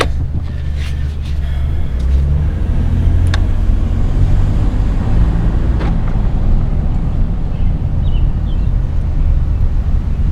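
A 2008 Jeep Commander engine idles after a tune-up, a loud, steady low rumble with a few brief ticks and clicks over it, no voices.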